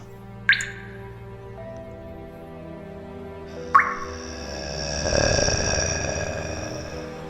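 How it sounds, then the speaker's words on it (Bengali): Two separate drops of water falling from a toilet in a dark, silent room, each a sharp, clear plink, about three seconds apart, followed by a soft low rumble. "সেই টয়লেটের দিক থেকে ফোটা ফোটা জল পড়ার শব্দ ভেসে আসছে"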